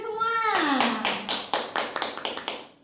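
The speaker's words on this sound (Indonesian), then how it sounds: "Tepuk tangan buat kita semua." Children in a classroom clapping together in a quick series of sharp, distinct claps after a voice trails off at the start, moderately close and fairly quiet.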